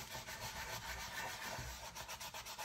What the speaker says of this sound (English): I like to rub it a little bit with my fingers at first